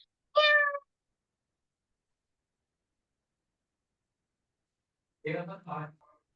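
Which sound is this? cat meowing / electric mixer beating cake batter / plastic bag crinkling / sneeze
cat meowing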